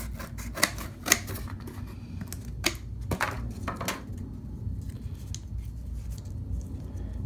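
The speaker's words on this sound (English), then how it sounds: "I'm going to cut our little" Scissors snip through a small cardboard construction for a cardboard circuit project. A few sharp, close cuts land early, then give way to a steady low rumble and light handling noise, with no voices.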